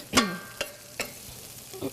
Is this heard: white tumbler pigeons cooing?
no